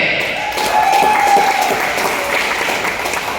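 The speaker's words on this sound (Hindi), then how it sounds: "तालियां कम बजी है" An audience at a business plan presentation claps in a steady, moderate patter of applause lasting a few seconds, with a faint voice and a tone running underneath.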